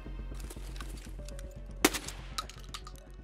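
Escape from Tarkov gunfire: one sharp, loud shot cracks out over a steady low mechanical rumble and ticking clicks, followed by a fainter second report.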